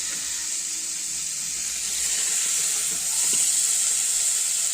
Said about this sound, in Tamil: கருவாடு வந்து நல்லா வறந்துச்சு போதும் நம்ம எடுத்துக்கலாம்